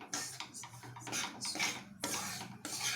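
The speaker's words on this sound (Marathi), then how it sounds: "कंटिन्यू याला असं मिक्स करत राहा म्हणजे एकसारखं आपलं बेसन भाजलं जाईल" Besan roasts in a pan in ghee for laddoos while a spoon scrapes and stirs it, rhythmic rasping strokes in bursts with short pauses, close and moderately quiet.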